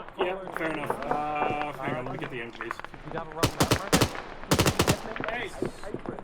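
Bursts of machine-gun fire in Arma 3, several close rapid volleys cutting in over continuous talking and other game sounds.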